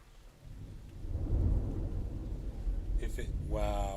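Thunder from a storm swells into a deep, rolling rumble with rain hissing underneath, and a person's voice breaks in at the end.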